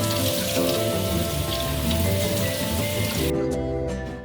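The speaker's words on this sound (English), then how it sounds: "I just filled up my salad spinner, so I'm going to rinse it in this and then spin it dry" Water runs and splashes into a salad spinner full of fresh herbs being rinsed, a loud, steady, rain-like patter that cuts off suddenly near the end, leaving a few faint drips.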